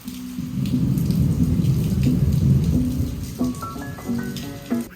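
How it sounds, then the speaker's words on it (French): Steady rain pours down throughout a thunderstorm near Miami, with a low rumble of thunder underneath and some tonal chiming near the end. "c'est rassurant comme tout cet orage, j'adore"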